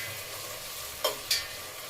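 Green chilies fry in peanut oil for an amla pickle with a soft, continuous sizzle, broken by two brief scraping stir sounds near the end, close and fairly quiet.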